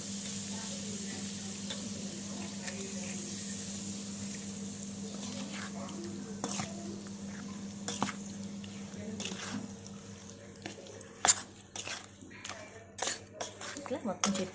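Hot oil tempering for a bitter gourd pickle is poured over garlic, giving a soft, steady sizzle with a low hum, then scattered sharp crackles and spatters; someone talks over it.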